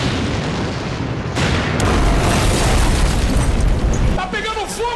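A gas pump is shot and explodes in a George Romero zombie film: a loud, sustained boom and roar swells after a sharp onset, then dies into crackling fire as a voice breaks in at the end.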